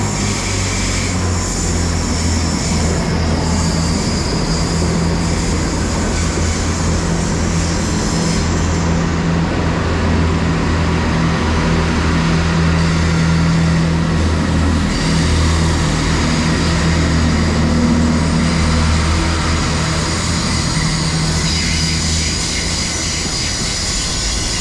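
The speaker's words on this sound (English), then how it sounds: "There is also an IET coming in." Great Western Railway Intercity Express Train pulling into Bath Spa station on the Great Western Main Line, a steady loud diesel-electric drone with low rumble building and holding throughout, no talking.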